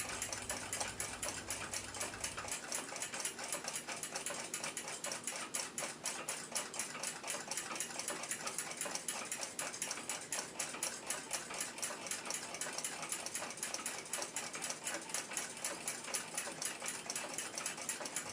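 Powered escapement of an 1887 F. Kroeber marine ship's clock, whose escape wheel has a few short teeth, ticks in a fast, steady, even rhythm as the teeth meet the pallets, close up and quiet with no voices.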